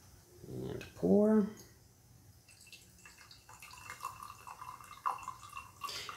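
Gyokuro Hoshino green tea poured for its second steep gives a soft, thin trickle of liquid, with quiet drips, after a brief burst of talking at the start.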